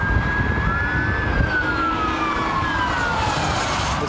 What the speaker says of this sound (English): Sounds of sirens filled the air